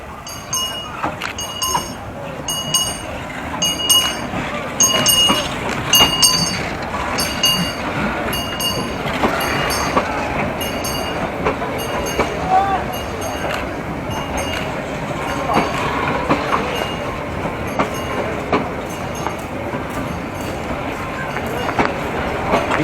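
Train arriving at Bagan railway station in Myanmar, with rhythmic wheel clatter and rumble over a bell ringing in repeated bursts, and people talking nearby.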